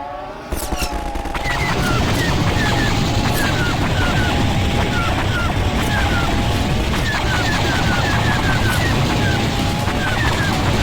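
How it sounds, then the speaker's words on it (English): Guns of the Vulcan droid fighter firing in a Garry's Mod Star Wars game, a dense continuous roaring barrage with whooping tonal sweeps repeating over it, loud and unbroken for the whole stretch. "The droid fighter known as the Vulcan. And it's as noisy as hell as well."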